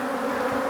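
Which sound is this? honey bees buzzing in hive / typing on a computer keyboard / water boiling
honey bees buzzing in hive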